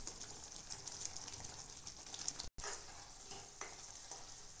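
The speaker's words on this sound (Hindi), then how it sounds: "इस ग्रेवी को हम 10 से 15 मिनट तक भूनते रहेंगे, जब तक इसका तेल अलग ना हो जाए" Masala gravy with red chili powder, turmeric and garam masala fries in oil for matar paneer while being stirred, giving a steady close sizzle with soft scraping throughout and one brief break in the sound.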